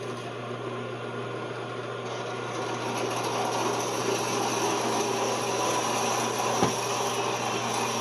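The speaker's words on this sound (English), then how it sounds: "So let's see how well the bandsaw does with it." Bandsaw cutting through a hard tool steel rod from a scrapyard lathe project, a steady continuous whine and grinding hum that holds level and slightly louder through the cut, with one brief click near the end.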